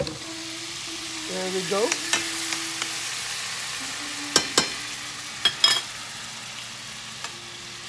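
Garlic sizzles as it fries in butter for garlic butter shrimp. A soft, steady crackle is broken by several sharp clatters of stirring and utensils, and a brief voice speaks near the start.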